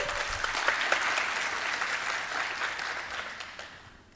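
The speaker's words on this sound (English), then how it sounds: "Round of applause, ladies and gentlemen." A seated audience at a Silicon Valley sharing session breaks into steady, dense applause, sustained for several seconds before slowly thinning toward the end, with no voices over it.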